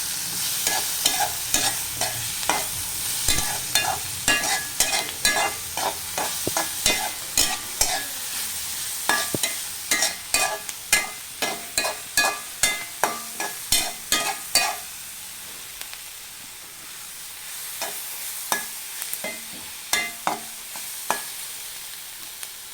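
Onions are sautéed in oil with crushed ginger and garlic for a capsicum masala. A steady sizzle runs throughout, broken by many sharp, rhythmic scrapes and taps as a spoon stirs the pan, close and loud, with no talk.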